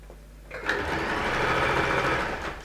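A sewing machine stitches along the press line of a dress being refashioned into a shirt, starting up after a quiet moment and then running steadily at a close, loud, even whir.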